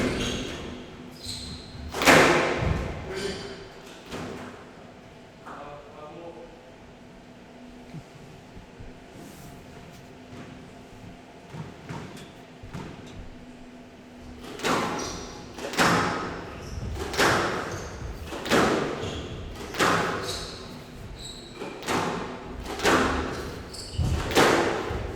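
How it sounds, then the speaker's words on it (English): Squash ball shots in a professional league match, sharp echoing thwacks and thuds off the walls in irregular rallies, dense bursts at the start and a quicker run of hits later, with a quieter stretch between. "Moving forward and taking the forehand volley to put it away."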